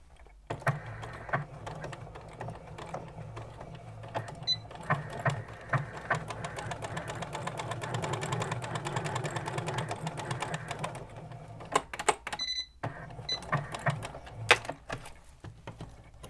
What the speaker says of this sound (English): this time I'm going to line up the edge of the fabric with this side of my sewing foot